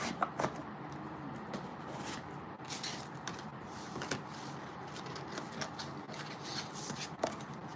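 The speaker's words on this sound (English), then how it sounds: "I'm gonna shuffle one more time." Oracle cards are shuffled by hand in a steady run of soft papery riffling and sliding, close and continuous, with a few sharper taps, no talking.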